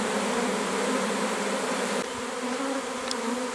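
Swarm of honeybees buzzing densely around a bucket outdoors, a continuous, close, loud drone with no voices.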